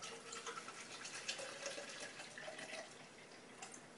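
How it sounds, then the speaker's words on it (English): Measured water, 10 ounces, pours steadily into a plastic shaker cup, with a continuous close splashing rush and no talking. "we're going to fill this up with 10 ounces of water"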